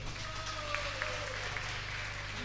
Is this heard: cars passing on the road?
no